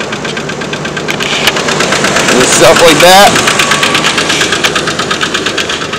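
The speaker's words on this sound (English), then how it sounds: "you can hear why I need to change or get my engine replaced" A worn red truck engine idles roughly up close, its rapid rhythmic knocking pulsing steadily and loudly while someone talks over it.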